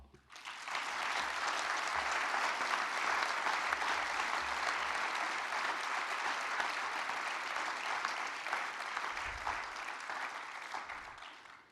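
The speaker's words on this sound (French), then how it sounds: "je vous propose, pour vous réveiller, de les applaudir aussi" A conference audience at a national congress's opening session breaks into loud, sustained applause, a dense, steady wash of many hands clapping that holds for about ten seconds before tapering off.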